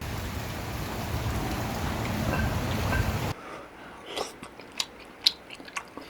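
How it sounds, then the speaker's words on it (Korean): Rain falls steadily in a soft, even patter for a few seconds, then gives way to quieter, scattered crunchy chewing sounds of someone eating oiji, Korean pickled cucumber. "야 들리세요? 이거 빗소리예요 빗소리."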